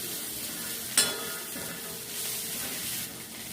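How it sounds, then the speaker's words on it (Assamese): Sliced onion and garlic frying in a small amount of oil, a steady close sizzle with a sharp scrape of stirring near the start. "মোৰ পিঁয়াজ নহৰুখিনি ভজা হৈ গৈছে।"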